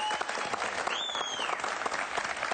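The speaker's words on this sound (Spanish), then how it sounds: "Un aplauso para ellos." Enthusiastic applause fills the room, dense clapping from a crowd with a brief whistle-like tone rising and falling midway.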